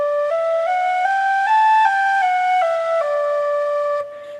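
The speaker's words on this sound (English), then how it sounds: "What most people do when they're learning tin whistle is to slur all the notes." Tin whistle playing a smooth run of slurred notes, each pitch gliding into the next without tonguing, rising then falling in a steady melody, close and clear with no voices.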